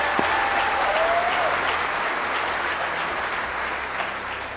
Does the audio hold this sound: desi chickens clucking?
no